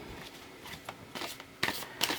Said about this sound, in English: I'm just going to shuffle these for you.